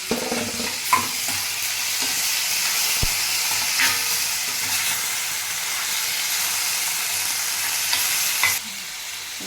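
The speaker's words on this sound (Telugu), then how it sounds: "సన్నగా కట్ చేసి పెట్టుకున్న టమాటోలు కూడా వేసేసుకొని బాగా ఒక నాలుగు నిమిషాలు వేయించుకోవాలి" Thinly sliced tomatoes fry in a pan for Chettinad chicken, with a strong continuous sizzle and hiss under steady stirring scrapes and one sharp knock, until the sizzle cuts out just before the end.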